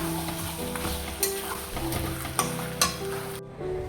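Dry red chilies and black pepper sizzle and fry in a pan while being stirred, with a steady hiss broken by a few sharp scraping clinks before the sound cuts off near the end.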